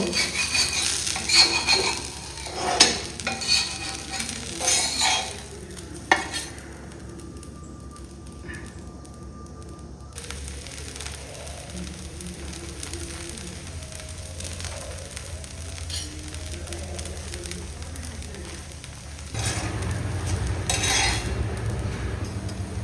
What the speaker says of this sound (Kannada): ಬಟರ್ ಮತ್ತೆ ಗಾರ್ಲಿಕ್ ಫ್ರೈ ಆಗುವಾಗ ಒಳ್ಳೆ ಕ್ರಿಸ್ಪಿ ಮಾಡಿ ತೆಗೆಯಿರಿ